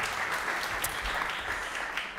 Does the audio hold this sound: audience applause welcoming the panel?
yes